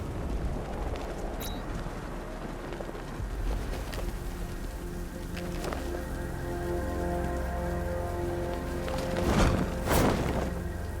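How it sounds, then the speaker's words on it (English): Steady rain hisses across the scene in the Batman: Arkham Knight video game, a constant wash of falling water heard under sustained musical tones, swelling slightly louder near the end. "What's with all the rain?"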